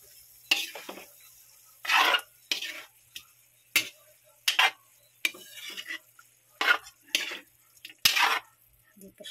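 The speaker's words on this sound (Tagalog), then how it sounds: "Haluin po muna ulit natin." Food is stirred in a pot while cooking, with a series of distinct scraping, clinking strokes of a utensil against the pot in an irregular rhythm, close and fairly crisp over quiet background.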